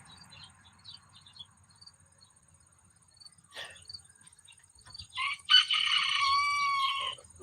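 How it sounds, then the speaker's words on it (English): A rooster crows once loudly near the end, a long strained call after several seconds of faint chirps and insect-like ticking. "That rooster needs to be soup."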